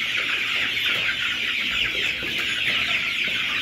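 A flock of 45-day-old layer chickens clucks steadily in a winter poultry shed, a dense continuous chorus close by with no talk.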